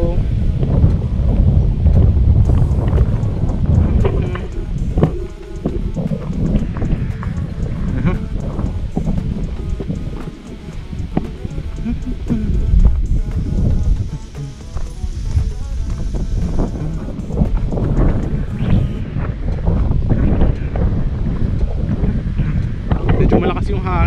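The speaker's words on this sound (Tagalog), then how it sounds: "Malakas yung hangin dito guys." Strong wind buffets the microphone outdoors on a lot in Silang, Cavite, a loud continuous rumble with gusts over about 24 seconds while someone speaks.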